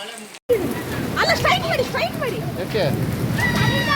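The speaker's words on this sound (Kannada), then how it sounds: "ಆಣಿಕಲ್ ಮಳೆ ಅಂದರೆ ಹೇಗಿರುತ್ತೆ ಅಂತ ನಾ ನಾನು ನೋಡಿದ್ದೀನಿ" Rain with hailstones falling, a continuous close patter and hiss heard under a person talking throughout.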